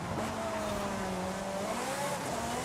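A racing car in Forza Horizon revs hard through a turn, its engine note rising and falling in steady harmonic sweeps, fairly quiet and continuous with a faint hint of tire noise.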